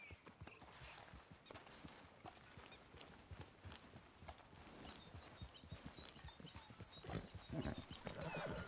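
A horse's hooves clip-clop steadily in Red Dead Redemption II, a continuous rhythmic walking gait with occasional snorting, heard quietly under the game's outdoor ambience.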